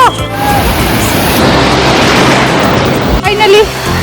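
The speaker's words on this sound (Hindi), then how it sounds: "लहरें आ रही है, लहरें आ रही है ये" Sea waves surging onto a sunny beach, a loud, continuous wash of surf close by with heavy wind buffeting, and a voice briefly heard near the end.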